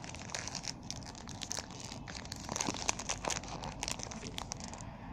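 Crinkly plastic foil of a Match Attax 2014-2015 booster pack being torn open, a run of close, sharp crackles and rustles that grow busier midway, with no talking.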